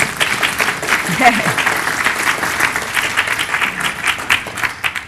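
Audience applause at a talk on the Rendlesham Forest incident at Bentwaters, a steady dense clapping crowd filling the whole stretch, with a brief voice heard over it.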